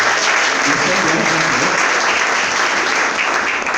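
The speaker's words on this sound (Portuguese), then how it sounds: "Dá uma salva de palmas para ele." Audience applause at a couples' pre-congress church gathering, dense and steady clapping filling the room loudly throughout, with some voices mixed in underneath.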